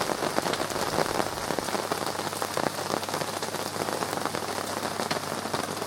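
Steady, dense rain pattering on a tent close overhead, a continuous loud drumming of drops with no voices.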